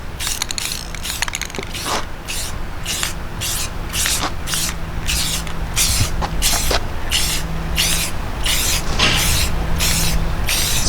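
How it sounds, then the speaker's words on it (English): Aerosol spray can dyeing car upholstery, a series of sharp hissing bursts in steady rhythm, each lasting under a second, close and loud with faint handling noise between. "Sprays really well."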